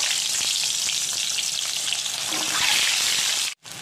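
Boiled eggs fry in hot oil in a pan for a biryani, making a loud, continuous close sizzle that cuts out abruptly near the end.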